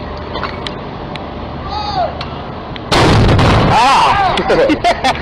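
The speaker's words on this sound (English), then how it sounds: "That looks like an AT-4 shoulder-fired rocket, and that did not go according to plan." An AT-4 shoulder-fired rocket goes off wrong during a military firing: a heavy, close blast erupts partway through and rumbles on, with voices shouting around it and scattered sharp pops before.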